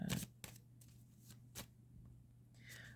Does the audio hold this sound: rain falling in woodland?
no